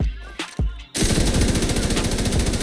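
Rapid sustained fire from the Bullet King machine gun in a video game, a fast, even stream of loud close shots after a few brief isolated sounds at the start.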